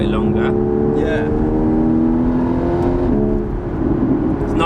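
A Porsche 981 Cayman S engine pulls and revs under acceleration from inside the cabin, a steady droning hum rising in pitch while people talk over it.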